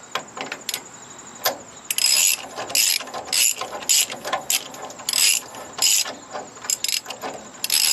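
A ratchet tightens bolts on the pintle hitch of a 1954 Power Wagon, with rapid close clicking in repeated bursts and short pauses as the wrench is reset.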